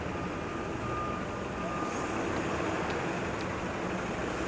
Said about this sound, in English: There's a lot of noise downtown first thing in the morning